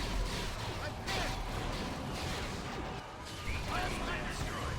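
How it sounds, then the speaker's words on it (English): Explosions from a bombing run in a Star Wars Republic Commando mod rumble and crack in dense, overlapping bursts of gunfire and blasts, loud and continuous, with a voice speaking over the battle noise. "Here comes a bombing run."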